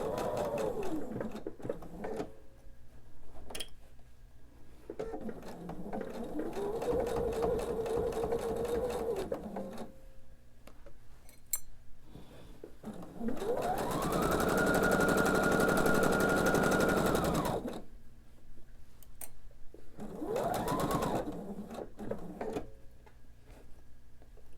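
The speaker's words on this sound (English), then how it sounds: "I'm going to slowly sew, making sure I don't flip anything" Sewing machine stitching the seams of a triangle-patchwork pillow in slow runs, with pauses between bursts; a rapid mechanical needle chatter stands out clearly, loudest in a sustained stretch in the middle, alone without talk.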